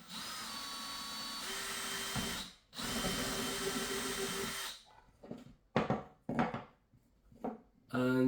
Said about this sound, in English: drill into this and it will countersink